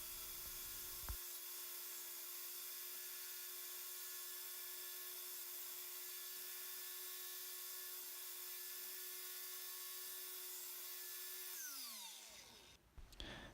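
A table saw with a miter gauge and flip stop cuts maple stock for small pillars, a steady loud whine running for about eleven seconds before spinning down, with no talking.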